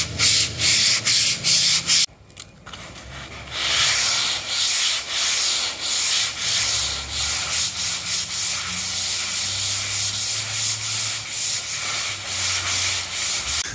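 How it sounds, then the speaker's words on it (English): Folded sandpaper worked by hand over the body panel of a Cushman Truckster Executive utility vehicle during restoration, giving loud rhythmic rasping strokes in a steady back-and-forth pattern with a brief pause early on, close and alone. "we're just going to get some sandpaper, fold it over, and sand it the old way"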